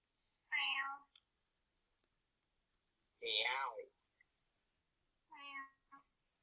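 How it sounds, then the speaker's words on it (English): A pet cat meows three times in a home setting, each call a short, clear, fairly loud cry with pauses of a couple of seconds between them, the last one slightly softer. "Oh, my cat is making herself heard."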